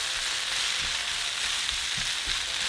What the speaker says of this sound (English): So we're going to fry them for 2 more minutes.